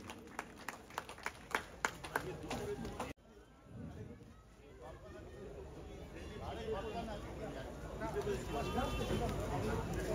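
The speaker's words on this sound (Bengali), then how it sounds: "সূত্র ধরে সকলকে বলি একবার জোরে হাততালি হোক এই মুহূর্তটির জন্য।" A crowd at a Durga Puja pandal inauguration in Durgapur breaks into applause. Sharp, close claps come first, then a cut to a broader, rising wash of clapping and crowd chatter, with voices talking throughout.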